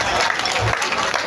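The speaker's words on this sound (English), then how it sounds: "I think he deserves a round of applause." Applause for an honored guest at an evangelical church's annual thanksgiving service, a dense, steady clapping from a crowd, loud and brief.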